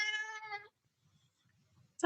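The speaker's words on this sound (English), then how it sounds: "This is my cat Hazel." A pet cat at home lets out a clear, drawn-out meow close by, followed by quiet rustling and the start of a second meow at the very end.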